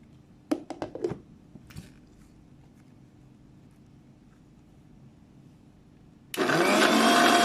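A few light clicks and taps give way to an electric mixer starting up, a loud steady whirring drone as oil is blended into homemade mayonnaise, close with no talk.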